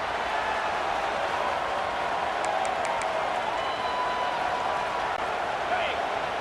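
Simulated stadium crowd in the College Football 26 video game, Penn State against Ohio State, roaring as the defense holds in the red zone; a steady, dense wash of crowd noise runs throughout with a few faint higher tones on top.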